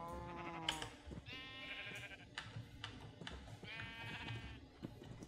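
Sheep bleat repeatedly in a Minecraft farm scene, several drawn-out calls spaced a second or two apart, fairly clear and close over a quiet game background with no talking.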